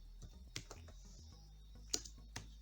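Soft, quiet clicking of keys on a computer keyboard as HTML code is typed, irregular taps and short bursts close by with no talking.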